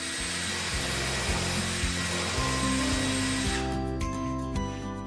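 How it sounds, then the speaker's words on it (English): A power drill whines steadily as a countersinking bit with a pilot bit grinds through wood, close and loud, with the motor pitch shifting slightly near the end. "I've got a countersinking bit with a pilot bit in there"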